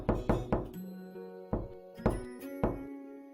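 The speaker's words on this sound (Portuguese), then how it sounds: "O lobo esperto bateu na porta" A wolf knocking on a wooden door in a telling of The Three Little Pigs, a quick burst of three hollow knocks followed by three more spaced out, resonant and close.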